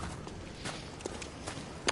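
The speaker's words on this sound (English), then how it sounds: "I heard their footsteps." Footsteps of players in Bloodborne PvP, a few soft, scattered steps over a low game ambience, with a sharper, louder footfall near the end.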